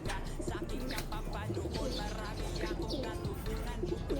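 Pigeons coo softly and repeatedly amid a busy background of chirps and murmuring voices.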